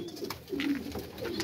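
Pigeons kept by a breeder coo softly in a short run of low, rolling calls, faint and close with no talking.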